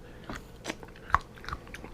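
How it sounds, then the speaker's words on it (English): Crunchy cooked broccoli being chewed up close, a few short crisp bites and crunches spaced irregularly over a quiet background. "Broccoli should still have a little bit of crunch to it."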